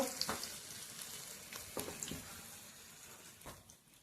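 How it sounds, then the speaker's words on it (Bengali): Cabbage pakoras deep-frying in hot oil, a soft steady sizzle with a few sharper crackles and bursts scattered through, fairly quiet and close. "বাঁধাকপির পাকোড়া ভাজছি"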